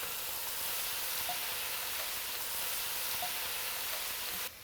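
Sliced leek sautéing in a pan for potato leek soup, a steady broad sizzle with faint occasional pops, even and continuous until it drops off sharply at the end, no talking.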